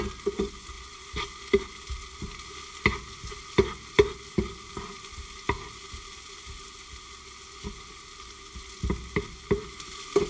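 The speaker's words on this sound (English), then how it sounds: "This is very fast to cook this kind of onion." Onion frying in a pan, a constant soft sizzle broken by sharp clicks and scrapes of stirring at an irregular pace, close up and moderately loud, with no one talking.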